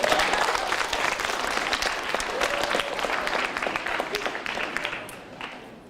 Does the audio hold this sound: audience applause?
yes